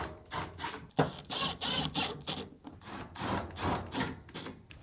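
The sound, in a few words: screws being driven into a Samsung dryer lint duct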